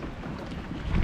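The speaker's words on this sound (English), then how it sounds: "Pretty windy today." Strong wind buffets the microphone on a small fishing boat drifting on choppy water at low tide, a steady low rumble that swells louder toward the end, with no talking.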